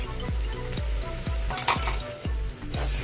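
A spoon stirs amla pickle with five-spice and dried chilli powder in a pan, with rhythmic scraping strokes and clinks about every half second over a soft sizzle, close and without talk.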